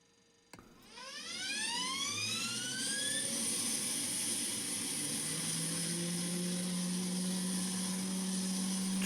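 An F-15 jet engine spools up in a flight simulator after a sharp click, rising whines sweeping upward into a steady high-pitched turbine scream over a low rumble, growing louder and holding constant.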